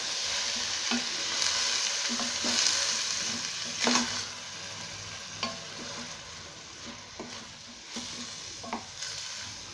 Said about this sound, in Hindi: अब हम इसमें पालक ऐड कर देंगे इसे भी अच्छे से मिक्स कर लेंगे